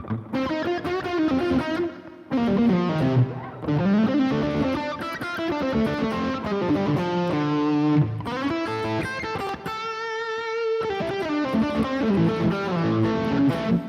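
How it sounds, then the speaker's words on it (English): A distorted electric guitar plays sustained blues chords and notes drenched in reverb, the tails washing into each other, steady and fairly loud with no voices. "There's plenty of reverb on that there"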